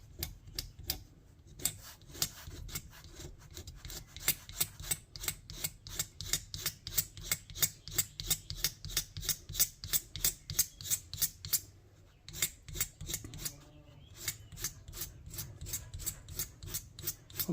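Two razor blades scrape along a wooden screwdriver handle and shank in a fast, steady rhythm of dense rasping strokes. The scrapes are close and loud, with two brief pauses and no talking.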